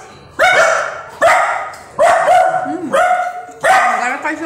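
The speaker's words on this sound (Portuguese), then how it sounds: "A cachorrada tá se comunicando aqui." Several dogs bark back and forth in a close, loud exchange, five sharp bursts with brief gaps between them.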